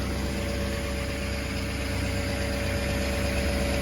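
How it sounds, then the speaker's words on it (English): Two Ford F-350 SRW STX diesel pickups idle side by side, a steady, dense, loud diesel rumble with a constant hum and no change in pace, heard up close without talk. "I got them running side by side, and no knocking, no ticking, nothing like that."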